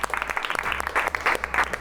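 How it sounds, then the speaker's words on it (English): Short burst of applause from a small group during a takt-time construction simulation exercise, irregular overlapping claps filling the room at moderate loudness. "Round of applause."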